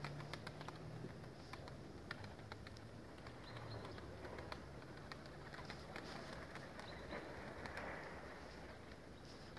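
Pigeons circling and settling over a home loft, their soft cooing and fluttering faint and distant against steady outdoor background noise.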